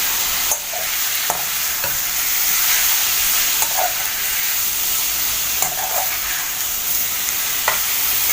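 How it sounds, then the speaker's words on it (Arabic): Kidneys fry with lamb fat in a pan, a loud, continuous sizzle broken by occasional scraping and clicking as the pieces are stirred. "انا عماله اقلب فيها اهو."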